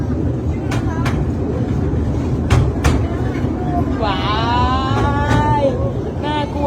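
A train rumbles along its rails with a steady low roar, a few sharp clacks and a brief squeal from the wheels, close and loud.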